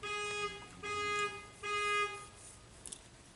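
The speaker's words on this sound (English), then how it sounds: "somebody's alarm was going off out there" A car alarm sounding faintly outside, three repeated electronic tone bursts of about half a second each with short gaps, then quiet.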